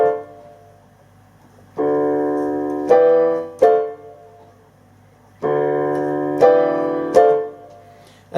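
Two sustained jazz chords from a 1959 track, the main-section pair, played twice as a short answering figure, each repeat with accented stabs, clear and close with no talk.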